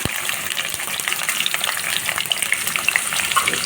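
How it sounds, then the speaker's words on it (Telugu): Sliced onions and two green chillies in hot oil in a pan, giving a steady close hiss and sizzle with small crackling pops, no talk. "ఆయిల్ వేసుకొని ఇందులో 2 పచ్చిమిర్చి కట్ చేసి పెట్టుకున్న ఆనియన్స్"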